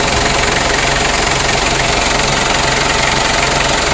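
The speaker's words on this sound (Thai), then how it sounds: "เครื่องยนต์นะครับเดินเรียบๆนะครับเป็นเครื่องยนต์ดีเซลนะครับ" A 2500 cc diesel engine in a top-model Ford Ranger pickup idles steadily up close, a loud, continuous clattering rumble with a regular knocking pulse and no voices over it.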